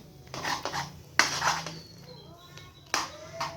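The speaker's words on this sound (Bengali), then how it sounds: "এবার আমি চামচ নিয়েছি, চামচের সাথে নাড়বো, নাড়তে থাকতে হবে" Wheat flour mixture stirred in a pot with a spoon, giving a few distinct metallic clanks and scrapes against the pot at irregular intervals, close and moderately loud with quiet gaps between strokes.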